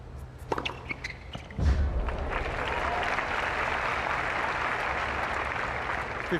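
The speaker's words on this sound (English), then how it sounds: "a lot of the crowd urging Henman to get right back into this match" A tennis crowd at the Cincinnati 2000 match between Enqvist and Henman bursts into sustained applause after a few thuds, a dense steady clapping roar that continues loudly to the end.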